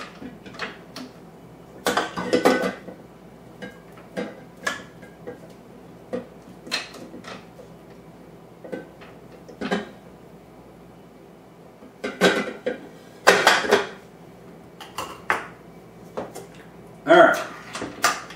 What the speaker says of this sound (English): Give the blade a good scrape.